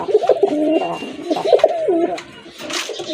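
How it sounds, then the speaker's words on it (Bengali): Pigeons cooing close by in a repeated rolling pattern, with a pair of sky-blue pigeons among the birds offered for sale, one of them crested; faint background noise sits under the calls. "আরেক জোড়া কবুতর আকাশি কালারের ভিতরে"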